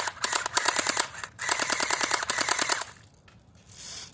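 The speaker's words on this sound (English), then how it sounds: "I'm just going to go like this and hit fire without aiming." An airsoft gun fires rapid bursts of sharp, clicking shots without aiming, two close, loud volleys separated by a short pause, then quieter mechanical sounds trail off.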